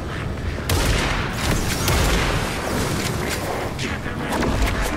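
Gunfire in Alan Wake 2, a dense, loud run of shots and booming impacts nearly continuous throughout, with brief voice underneath.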